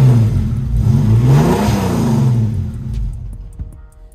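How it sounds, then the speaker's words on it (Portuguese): A 1987 Chevrolet Opala Diplomata with a five-speed manual, started cold after sitting, gives a loud, close engine roar that rises and swells in revs, then falls away and fades as it dies. "Vamos dar uma partida pra vocês que tá rolando."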